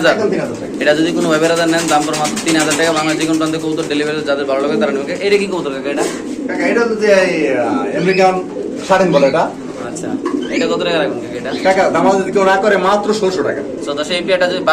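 Large king pigeons coo among a flock, their low calls running steadily through the clip beneath someone talking loudly the whole time.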